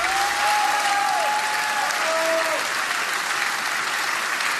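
A crowd at a Gabriel Attal political rally claps steadily and loudly throughout, sustained applause with a voice faintly audible beneath it.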